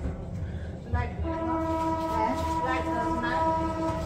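A passing train, heard near a home kitchen where rice and mashed dishes are being cooked on a cold winter morning, gives a steady rumble with sustained horn-like tones rising over it, loud and continuous from the first second onward.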